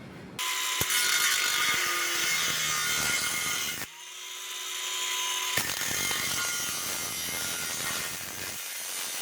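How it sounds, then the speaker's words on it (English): A power tool cuts through a metal section of the exhaust on a Ford Fusion 2.3L, a loud, sustained grinding whine with a brief pause and restart partway through, close to the microphone, with no talking. "So I'm going to go ahead and cut it now."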